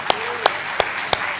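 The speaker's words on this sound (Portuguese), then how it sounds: "Aplauda o nome de Jesus." Church congregation clapping together in time, four sharp, evenly spaced claps over a faint background hum.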